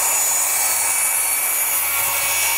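A saw cuts steadily through a board guided by a skate plate, a loud, continuous buzzing rasp held close throughout with no talk.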